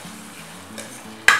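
Tomatoes with rock salt cook in a pan for kuska, giving a soft continuous sizzle, with a brief sharp scrape of a spoon stirring near the end.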